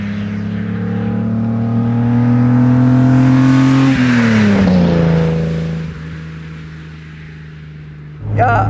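A 1956 Mercedes 300 SL Gullwing with sidepipes and Rudge wheels runs loud and close, its droning exhaust note rising slowly, then falling to a lower steady rumble before a sharp burst near the end.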